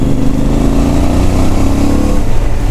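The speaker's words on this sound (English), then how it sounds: "I just wanted you to listen to this exhaust if you can hear it" A CFmoto 450 MT motorcycle with its standard exhaust drones steadily while riding, a loud continuous engine note with mild fluctuations in pitch.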